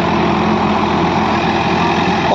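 A Massey Ferguson tractor, either an 8055 or a 245, runs with a rotavator in a field, its engine giving a loud, steady, close drone with no breaks.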